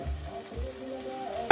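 Tomato puree gets stirred into a sizzling pan, a soft low frying hiss with a few scraping stir strokes, ending in a sharp clack of the utensil.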